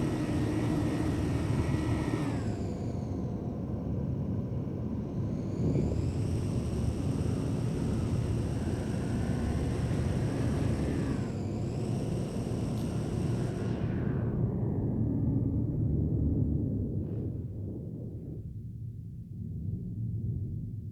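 A Hammerhead ship in a space video game flies with a loud, steady whooshing engine roar that shifts pitch as it accelerates and slows, then cuts down sharply to a quieter rumble near the end.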